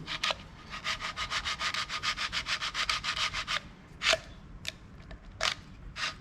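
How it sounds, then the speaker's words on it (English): A metal brake line tube is fed through a Mastercool tube straightener, making a fast run of about fifteen rhythmic rasping strokes, then a few slower scrapes, close and clear. "You have your tube straightener. Feed it through."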